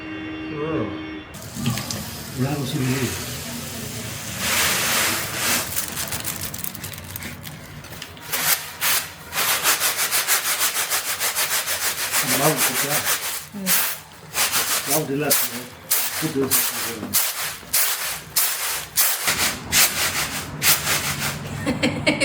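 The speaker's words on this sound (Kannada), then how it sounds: "ಕೇರ್ತೀವಿ ಇವಾಗ ಅಕ್ಕಿನ" Uncooked rice being winnowed by hand at home, giving a steady run of rhythmic dry swishing and rattling strokes that stay close and fairly loud, with occasional voices in the background.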